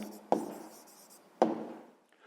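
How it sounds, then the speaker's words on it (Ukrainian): Two sharp pen-on-paper strokes, each a quick tap followed by a short scratchy trail, written close up while a math answer is noted down. "Записуємо відповідь."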